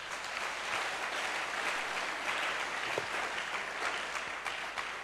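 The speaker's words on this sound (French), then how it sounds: "je veux qu'on acclame d'abord très fort pour le Seigneur" A church congregation claps loudly for the Lord, a dense, sustained round of applause filling the hall from start to finish, with no speech over it.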